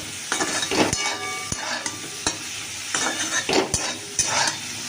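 Brinjal (eggplant) frying with salt in a pan, a steady close sizzle broken by sharp clinks and scrapes of a utensil stirring against the metal, with no voices.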